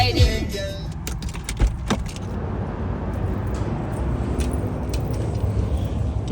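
A car is driven with a steady road rumble and engine drone throughout, with a few clicks and rattles inside the cabin near the start.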